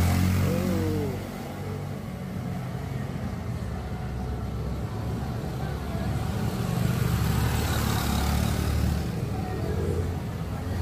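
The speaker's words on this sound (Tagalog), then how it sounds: "motorcycle rider" Police tactical motorcycles of the NCRPO's TMRC in the Philippines rev and roar past in a steady, loud stream of engine noise, with people talking over it.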